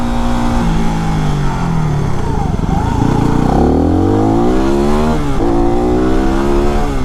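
A WR motorcycle ridden after a full rebuild, its engine droning loud and steady with rising and falling revs as it accelerates, continuous throughout with some wind and traffic noise mixed in.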